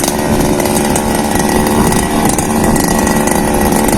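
Gasoline engine grass trimmer cutting grass in a rice paddy, a loud, close, continuous buzzing engine drone held steady throughout with no pauses and no voices.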